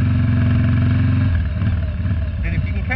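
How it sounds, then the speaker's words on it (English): Harley motorcycle revved with the clutch pulled in while sliding on snow: a loud, throbbing low engine rumble that holds steady, then shifts and roughens as the revs change. "I'm just pulling in my clutch and revving it up and then letting the back end slide."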